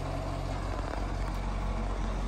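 A car engine runs steadily at idle, a constant low rumble with a broad hiss over it, fairly close and unbroken throughout.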